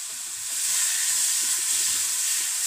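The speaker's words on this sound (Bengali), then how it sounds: "এইভাবে করে আমি আলুটা তেলে হালকা করে ভেজে নিচ্ছি।" Mashed potato and spices fry in oil for kochuri, a constant loud hiss of sizzling with a rough crackling texture, close and unbroken, with no voices.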